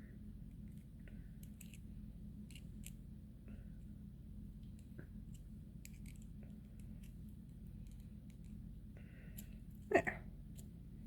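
Wire for beaded earrings gets cut with cutters, a single sharp close snip near the end after a stretch of quiet handling noise.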